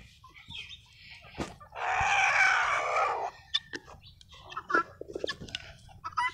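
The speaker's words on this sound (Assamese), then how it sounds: "এইটা হ'ল তিতিৰ মুৰ্গী মোৰ" Guinea fowl calling on a local poultry farm in Sirajuli, Assam: one long, loud, harsh cry near the middle, surrounded by scattered short clucks and sharp calls nearby.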